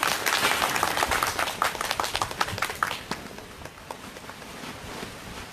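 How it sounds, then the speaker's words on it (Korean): A crowd at an outdoor rally in Soseong-ri claps in a burst of applause that thins out into scattered individual claps, fairly close and without talk over it. "큰 박수 쳐주십시오"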